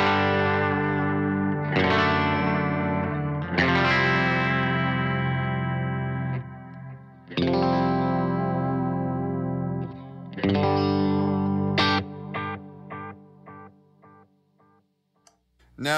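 Sustained electric guitar chords drenched in thick, wobbling bucket brigade delay and modulation set aggressively, gritty and loud, with repeats smearing between strums before a sparse ending.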